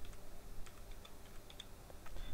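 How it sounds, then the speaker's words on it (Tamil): Rapid computer keyboard typing as an email address is entered, a quick irregular run of close, crisp key clicks with brief gaps, no voice. "ganesh@gmail.com நான் டைப் பண்ணுறேன்."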